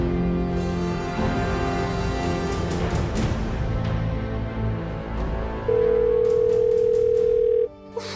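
A telephone rings with a steady electronic tone over a busy background of mixed sounds, holding for a couple of seconds before cutting off near the end.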